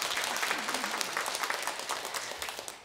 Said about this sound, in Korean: 뭐 여기 안 계시지만 박수로 좀 한번.